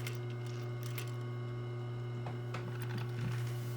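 A sewing machine stitching a collar runs with a steady mechanical hum and fine rhythmic ticking of the needle, close and continuous, with no voices.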